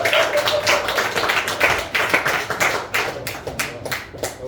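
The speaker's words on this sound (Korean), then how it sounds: "네 박수 주세요." A church congregation at a Sunday service applauding together, giving dense, fairly close rapid clapping that holds steady for several seconds, with no voices.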